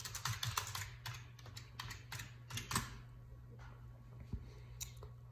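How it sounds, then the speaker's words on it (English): Fingers type on a computer keyboard in bursts of quick, close clicks and taps, with short pauses between runs and no talking. "Let me type in"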